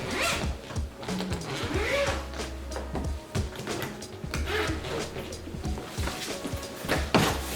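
A zipper on a BEIS medium check-in roller suitcase is pulled open in repeated close, rasping strokes, with some handling and bumping of the bag between pulls.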